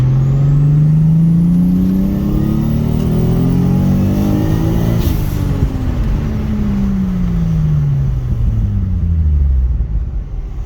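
A Mazda FC RX7 rotary sports car pulls hard in second gear, its engine note climbing loudly and steadily before easing off and dropping away, with no talking.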